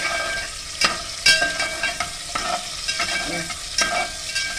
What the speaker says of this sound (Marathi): पनीर फ्राय करून घ्यायचं. फ्राय करून घेते